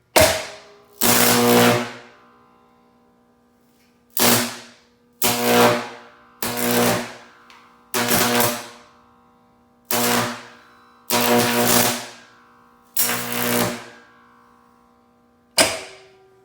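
A 14.4kV 15kVA transformer throwing high-voltage arcs through gassy air, about nine loud separate buzzing roars of one to two seconds each, split by short silences, with no talk.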